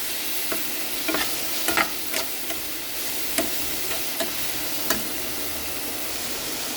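Spoon stirring meal maker curry in a pan after turmeric and red chilli powder go in, with a steady frying sizzle and a few sharp scrapes and clinks at irregular intervals.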